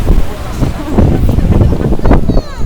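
Wind gusts buffet the microphone on a breezy seaside beach in Batumi, Georgia, with a steady roar of wind and surf filling the scene throughout and faint voices mixed underneath.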